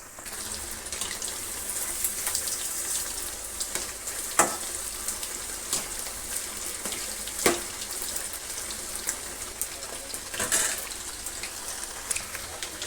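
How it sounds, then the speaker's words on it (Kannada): Chicken masala kabab deep frying in hot oil, giving a steady close sizzle with scattered crackles and pops throughout. "ಅಷ್ಟರ ತನಕ ಅದನ್ನು ಡೀಪ್ ಫ್ರೈ ಮಾಡಬೇಕು"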